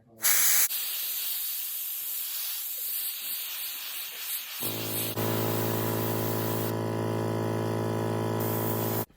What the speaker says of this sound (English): got some black in the airbrush. I'm just gonna put it on the eye